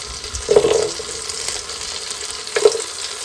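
Ginger and garlic frying in melted butter give a steady close hiss, broken by two brief clinks of a utensil against the pan.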